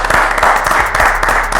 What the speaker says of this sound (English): let's get a small clap up in here tonight